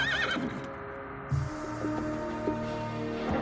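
Horses at a late-1700s Rocky Mountain House trading post neigh and whinny in a brief, clear call near the start, followed by quieter snorts and shuffling against low outdoor ambience.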